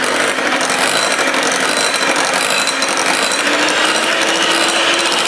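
Electric hand mixer beating cake batter made with Boost malt drink powder, a loud, continuous whirring and rattling buzz held steady at close range with no talk.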